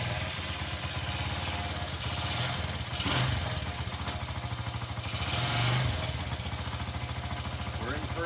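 A Honda XR80 dirt bike starts with the choke on in neutral and settles into a running idle, a steady close putter with two brief revs as a little throttle is given, heard alone.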